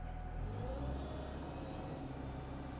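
Japanese-built Komatsu PC128 US-2 excavator engine running steadily at mid revs while the machine lifts, a continuous close, moderately loud mechanical hum with no talk.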